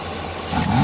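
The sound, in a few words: supercharged Opel Blazer engine running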